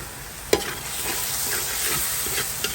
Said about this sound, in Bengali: এটাকে একটু ভালো করে আমি কষাই নিব